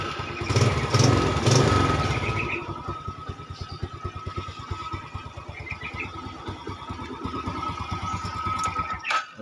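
A motorcycle with a battery-only electric starter cranks and catches with a loud, close burst, then settles into a steady rapid idle pulse before a short rev near the end.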